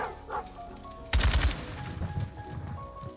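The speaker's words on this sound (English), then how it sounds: "I'm shooting first, asking questions later." Gunfire from Call of Duty Modern Warfare 2 campaign play: a sudden loud burst of rapid shots about a second in, followed by scattered softer shots and echoing clatter under game ambience.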